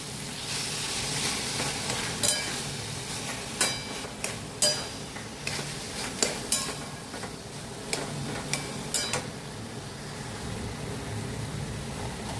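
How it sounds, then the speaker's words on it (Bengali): Green chillies are stirred into a vegetarian taro leaf ghonto with coconut and chickpeas as it fries, giving a constant sizzle broken by repeated sharp spoon knocks and scrapes against the pan, close and fairly loud. "লঙ্কাগুলো এবারে আমি মিশিয়ে দিচ্ছি"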